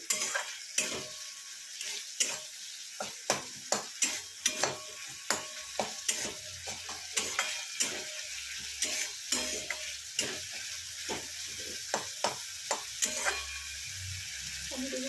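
Tomatoes and spice paste sautéing in a pan for matar paneer, with a steady low sizzle under repeated sharp scrapes and stirs of a utensil against the pan, close and moderately loud.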